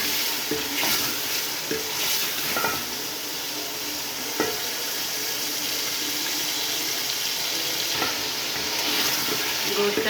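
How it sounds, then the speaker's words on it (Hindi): Chicken pieces sizzle and fry in a pot for aloo gosht while a spoon stirs through them, steady close crackling with occasional scraping knocks against the pot. "5 से 7 मिनट तक चिकन को भूनें।"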